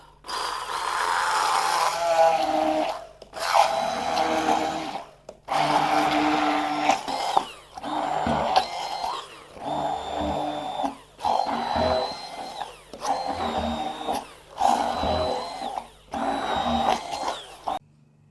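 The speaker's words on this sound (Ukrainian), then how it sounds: "Так, беремо блендер і давимо на газ." A blender runs loudly up close in several bursts, whirring and grinding a bread spread with short pauses between pulses; no talking.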